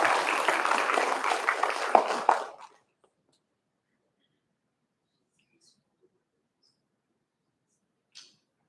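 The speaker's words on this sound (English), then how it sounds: "Let's have a round of applause for these ladies." Spectators at a spelling bee applaud briefly, with a burst of many hands clapping for under three seconds, then near silence with one faint click later on.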